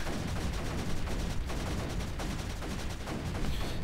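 A unit firing three shots at once in the Creeper World 3 strategy game, a dense continuous barrage of rapid gunfire-like bursts that stays loud and steady throughout.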